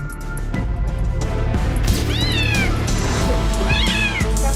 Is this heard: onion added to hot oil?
no